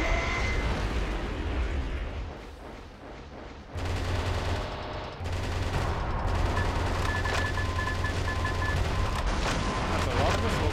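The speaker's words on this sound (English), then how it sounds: "I can just machine gun them away." Rapid machine gun fire from the Metal Wolf Chaos video game rattles almost nonstop, mixed with booming explosions and game effects, loud and dense, with a voice talking over it.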